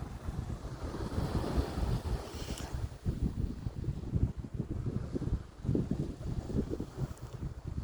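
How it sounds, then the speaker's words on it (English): Waves building under strong wind, a steady broadband rush and wash with rolling surges and heavy wind buffeting on the microphone, continuous and close. "Look at those waves are picking up."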